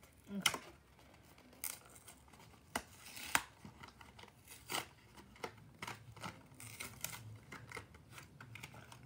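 Paper packaging pulled from a Hot Wheels box containing a Nissan R390 GTI model car, with soft crinkling and scattered sharp rustles and tears close by at low volume.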